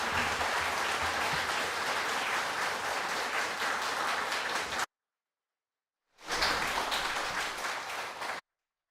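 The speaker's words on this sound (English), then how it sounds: "disorderly for you to clap and applaud" A crowd in a parliament public gallery claps and applauds in a dense, sustained burst. It cuts to silence, then a second round of applause rises and carries on before ending sharply, with no speech over it.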